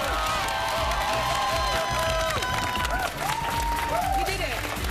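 Loud, continuous cheering, whooping and applause from a TV studio audience, dense crowd noise throughout with shrill whistles and cries rising above it.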